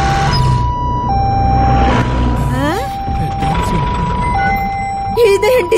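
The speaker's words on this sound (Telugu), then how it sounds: "అంబులెన్స్" An ambulance siren wails in a loud, steady two-tone hi-lo pattern in a Telugu movie scene, with voices and other sharp sounds breaking in around it.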